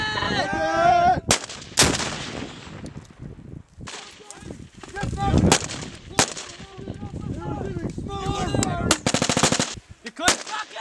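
Medium machine gun fire during a U.S. Marine live-fire exercise in Australia, loud sharp bursts and single cracks spaced irregularly, with other weapons and shouted voices mixed in.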